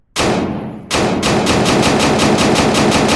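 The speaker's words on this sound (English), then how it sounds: "In both Geronimo and Tactical Assault VR, the AK sounds great." AK rifle fire in the VR shooter Geronimo or Tactical Assault VR: a short burst, a brief pause, then a long sustained string of rapid, loud, close automatic shots in a fast even rhythm.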